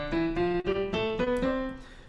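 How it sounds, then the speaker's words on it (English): Major scale played up note by note on a melodic instrument during an onstage music theory lesson, eight evenly spaced tones rising steadily in pitch, clear and close, with no voices. "A major scale sounds like this."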